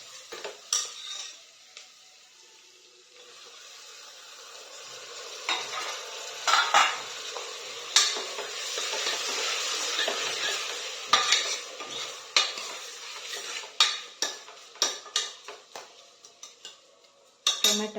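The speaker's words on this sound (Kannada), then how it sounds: "ಟೊಮೆಟೊ ಚೂರು ಫ್ರೈ" Onion and tomato fry in a pan as a utensil stirs and scrapes them, giving a soft steady sizzle broken by frequent close clinks and taps against the pan.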